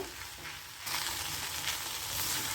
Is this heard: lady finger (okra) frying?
yes